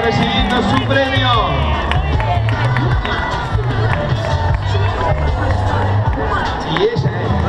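A large crowd keeps cheering and clapping continuously for a prize winner at a McDonald's event in Montevideo, with babble and shouts mixed in and a loudspeaker voice over the top.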